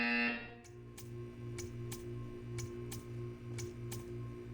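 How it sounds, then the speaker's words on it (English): A Portal 2 video game buzzer sounds in short repeated pulses, about a dozen in a steady, even rhythm, loud and close with a low hum beneath. "When you hear the buzzer, stare at the art."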